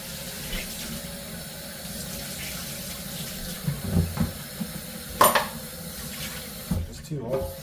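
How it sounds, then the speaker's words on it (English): Kitchen tap running lukewarm water for making Māori rēwena bread, a steady hiss of flowing water with a few clinks and knocks of a container, a voice talking briefly over it. "we're back to putting the water in"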